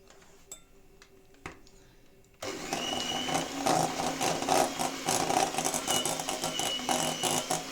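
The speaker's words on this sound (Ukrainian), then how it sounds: "Будемо пробувати її збити." An electric mixer whips homemade sour cream toward butter, starting abruptly after a few faint ticks and then running as a steady, loud, slightly rattling whir close by for the rest of the stretch.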